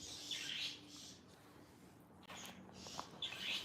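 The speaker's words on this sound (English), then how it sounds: "The sound of the birds. I like that." Birds chirp outdoors in Rwanda, a few high twittering calls coming and going in faint, soft bursts over a quiet hissing background.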